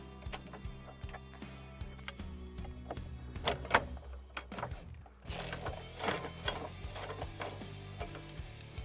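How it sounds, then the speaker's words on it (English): A ratchet clicks steadily and quietly, up close, while removing T40 screws to install a FoxDog Industries accessory bar, with faint handling knocks and a rougher, louder stretch of cranking toward the end. "You'll need a T40 in order to remove these screws."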